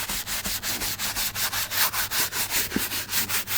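A full hand scrubber works back and forth over a car seat carpet during detailing, giving steady, rhythmic, loud brushing strokes about five per second, close up and with no talk.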